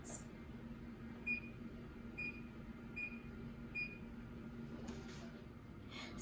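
A kitchen timer being set beside an oven baking biscuits at 450 degrees, giving four short evenly spaced beeps over a low steady hum, with a brief clatter near the end.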